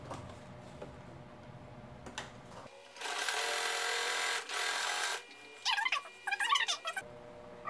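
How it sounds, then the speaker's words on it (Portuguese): A sewing machine stitches the four sides of a zippered pouch, running in a steady buzzing burst from about three to five seconds, then in shorter stop-start runs, with quiet handling before and after. "Não vou costurar o zíper, eu vou costurar só essa parte aqui dos 4 lados"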